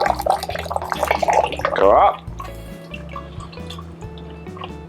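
A Bloody Mary is thrown between two cocktail tins, with liquid streaming and splashing down in a loud pour that rises in pitch, then quieter drips and trickles follow. Someone speaks briefly over it.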